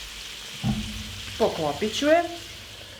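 Chicken liver fries in a pan with a steady close sizzle, while someone speaks briefly over it and a couple of pan or lid clinks are heard.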